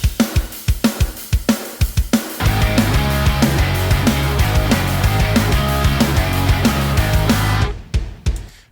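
Green Punk Kit preset from Ultimate Heavy Drums, playing a sampled metal-style drum groove: a few spaced solo hits open it, then a steady loud full-kit beat with driving kicks and cymbal wash, ending in scattered hits.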